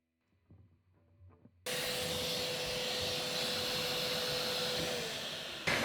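A router spins up suddenly after a few quiet handling sounds and roars loudly and steadily for about four seconds while it cuts a groove in the neck of a handmade electric guitar, with no voices.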